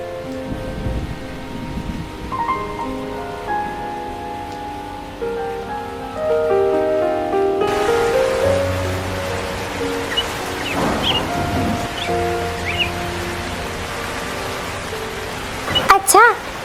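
Steady rain falls in a cartoon scene, a continuous broadband hiss running through the whole stretch and growing denser partway in, with music and a voice over it.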